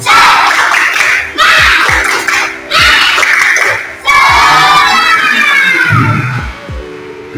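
Schoolchildren in an Indonesian classroom perform a spirited clapping chant, loud bursts of unison shouting broken by short pauses, with rhythmic claps punctuating the repeated phrases.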